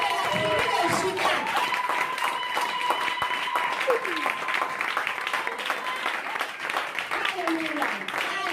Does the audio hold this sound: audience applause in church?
yes